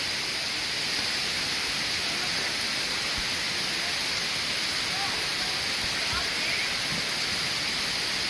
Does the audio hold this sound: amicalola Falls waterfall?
yes